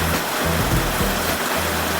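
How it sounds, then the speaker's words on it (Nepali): Heavy rain falls in a continuous broad hiss and roar, close and loud throughout, with no voices. "पानी परिरहेछ"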